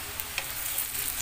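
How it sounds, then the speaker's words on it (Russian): Cut potatoes fry in a pan at home, giving a soft, steady sizzling hiss with a few faint clicks of stirring, close but fairly quiet. "И я решила пожарить картошку, наесться от души."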